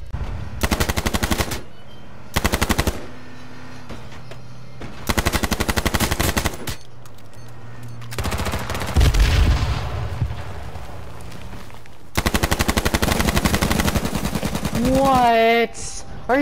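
Rapid automatic gunfire in the video game H1Z1 comes in several loud bursts separated by short pauses, with a brief explosion-like blast in the middle and a final sustained volley.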